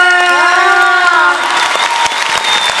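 A large audience at a charity concert in Taipei's Sun Yat-sen Memorial Hall applauds and cheers a singer. Dense, loud clapping fills the hall throughout, with a sustained high whooping cheer rising above it early on before the applause carries on alone.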